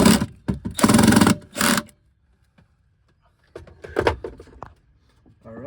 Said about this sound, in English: Next, we're gonna put a screw right down here to hold that in.